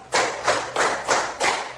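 A classroom of students claps together in a counted pattern, five sharp, loud group claps spaced evenly, with brief silences between them.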